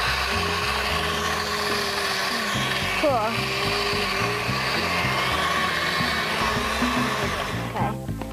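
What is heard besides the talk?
blender blending peanuts into peanut butter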